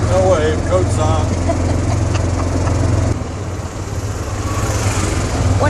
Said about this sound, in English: we tried to drive around the villages in our golf cart